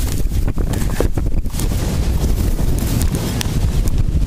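Strong wind blows at a lake shore, buffeting the microphone with constant low roaring rumble and gusty bursts throughout.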